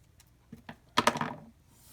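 Scissors snip through scrapbooking paper to cut a fishtail end, making a few light clicks followed by one crisp, rustling cut, close and fairly quiet.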